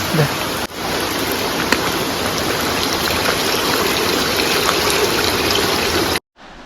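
Stream water swollen after heavy rain rushes past a night campsite, a loud, steady broadband gush close to the microphone, continuous until it cuts off abruptly near the end.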